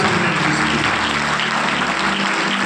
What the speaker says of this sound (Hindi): जोरदार ताली बजाओ प्रभु यीशु